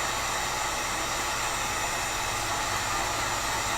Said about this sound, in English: Constantly moving the heat gun and constantly moving the bow itself, the blank.